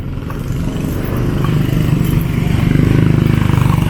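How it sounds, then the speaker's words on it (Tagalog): Motorcycle with a roof idling close by at a night market, a loud, steady, chugging engine rhythm with no voices on top. "Kita nyo naman yung motor ko, ganda-ganda oh."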